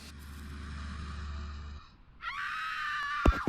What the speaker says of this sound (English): Got stock screams in the game.